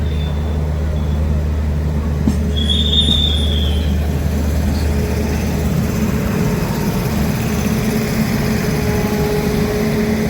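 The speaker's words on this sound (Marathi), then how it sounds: "समोरच आपल्याला एक ट्रेन जाते, राजधानी एक्सप्रेस दिसते आहे." The Rajdhani Express, a train bound for Mumbai, rolls past at Madgaon Junction with a loud, steady low rumble of wheels on track and a brief high squeal early on, continuous and close.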